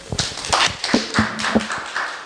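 A small lecture audience at a Bible class gives a short burst of scattered, uneven hand claps, fairly close and loud, with no talk over them.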